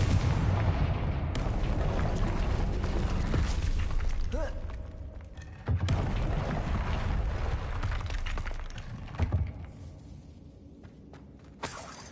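A Confringo blasting spell detonates in Hogwarts Legacy amid a noisy rumbling battle, with several sharp bursts standing out from the dense background, strongest near the middle and end.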